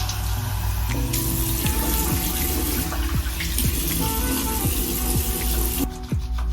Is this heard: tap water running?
yes